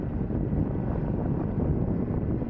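Boat motor engine running steadily up close, a continuous loud low rumble with wind buffeting the microphone throughout.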